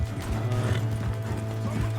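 A horse's hooves clip-clop steadily at a trotting pace in the video game Red Dead Redemption 2, over a low, constant background hum, with faint voices mixed in.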